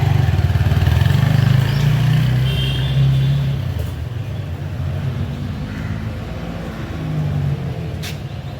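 A motorcycle engine drones loud and close, then fades steadily as the bike rides off toward the airport, leaving a softer lingering hum of road noise.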